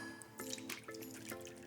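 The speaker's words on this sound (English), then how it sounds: "I'm just gonna drain my chickpeas here so we remove all of that liquid." Canned chickpea liquid draining and dripping in a home kitchen, a soft continuous trickle broken by splashy drips, heard up close and alone.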